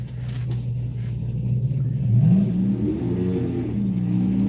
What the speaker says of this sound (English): Here's some of the guys getting the burnout started